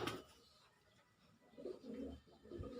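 Pigeons cooing softly in low, throaty phrases, quiet and fairly close, with a brief noisy burst at the start and no talk.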